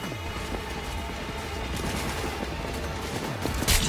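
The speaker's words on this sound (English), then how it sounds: "Who the hell's shooting me?" Gunfire from the video game Cyberpunk 2077 crackles in dense, continuous volleys with a loud burst near the end, all of it layered over a busy game soundscape.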